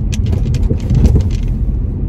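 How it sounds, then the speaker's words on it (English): Mercedes W204 rolling over a speed bump at about 20 km/h, heard from inside as a low steady rumble with soft thumps and rattles from the suspension, loud and close. "I'm going about 20 kilometers per hour and I'm gonna hit that speed bump"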